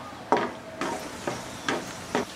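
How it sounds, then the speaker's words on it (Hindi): Cashews frying in hot oil in a kadai, with soft sizzling under five short stirring scrapes spaced roughly half a second apart, close and fairly quiet. "आइए सबसे पहले काजू फ्राई कर लेते हैं।"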